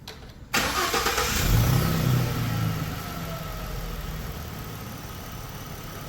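A 2016 Ford Transit van with an overheating history cranks briefly and starts, its engine catching with a short rise in revs before settling into a steady, close idle that continues alone.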